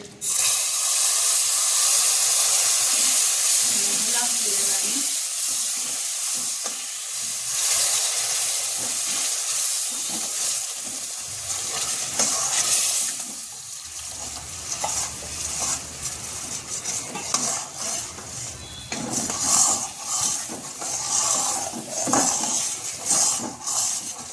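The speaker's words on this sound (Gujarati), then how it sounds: "હવે આપણે તેની અંદર ગોળવાળું પાણી એડ કરીશું" Jaggery water poured slowly into golden-brown roasted wheat flour for Gujarati sheero sets off a loud, steady hiss and steam burst, fading into softer sizzling and scraping as the mixture is stirred, with no talking.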